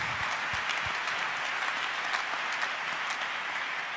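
A church congregation applauds for the Lord during a French-language sermon, with steady, dense clapping sustained throughout and no speech over it.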